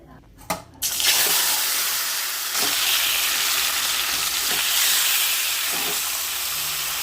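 Yogurt-marinated chicken with spice pastes hits a pan and frying over medium heat, a few clattering knocks and then a loud, broad, steady hiss with occasional utensil taps, close by with no voices.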